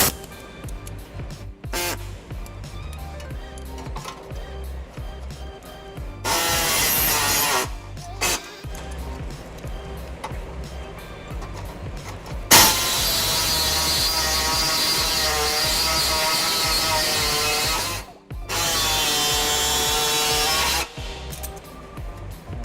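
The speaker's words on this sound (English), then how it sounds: "I'll be using an air saw for this" A pneumatic air saw cutting to widen holes in the frame of a 2006 Nissan Altima for trailer hitch hardware, a loud steady buzzing rasp in several long bursts with short pauses, close up.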